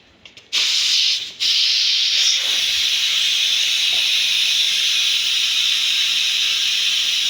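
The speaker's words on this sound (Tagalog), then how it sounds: "sa pressure cooker, kailangan talagang itong whistle na to" A pressure cooker whistle releases steam in a steady, loud hiss that starts abruptly, breaks off once for a moment, then carries on unbroken while lamb cooks in the pot.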